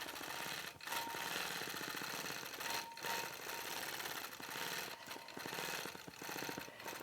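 A longarm quilting machine stitches freehand with a continuous fast mechanical chatter, steady and close, with brief dips where the needle pauses, no talk over it.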